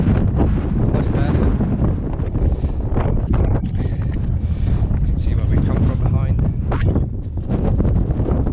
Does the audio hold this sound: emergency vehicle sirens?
no